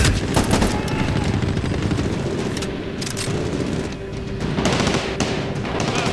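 Dense, continuous gunfire in the Medal of Honor Warfighter shooter, with rapid automatic bursts and booming shots layered together, loud and close throughout with no letup.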